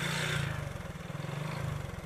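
A motorcycle engine revs up and holds at a steady, throbbing idle-like rumble, fairly close and alone, with a hissy burst at the start that fades as the engine pulses on.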